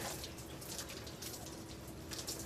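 Water runs steadily from a hose into a bucket on a balcony during cleaning, a faint, continuous hissing splash with a few drip-like accents.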